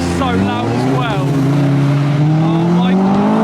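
Loud Lexus IS pulling away from a car meet, its engine revving and droning with rising pitch as it passes close by, with people talking over it throughout.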